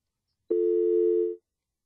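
A single steady telephone line tone sounds for about a second as an incoming long-distance call arrives during a live broadcast, clean and unbroken, starting abruptly and fading out quickly in otherwise silent surroundings.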